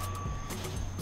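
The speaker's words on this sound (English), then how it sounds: "Sorry about that street noise." Truck reversing beeps cut through steady street noise on a rainy day, a sustained high tone pulsing in regular repeats over a low traffic rumble, moderately distant.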